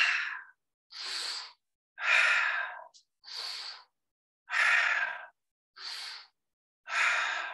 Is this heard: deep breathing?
yes